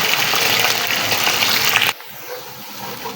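Thinly sliced medium onions dropped into hot oil for an achari chana pulao set off a loud, steady broadband sizzle for about two seconds, then it cuts off abruptly, leaving only a faint low background.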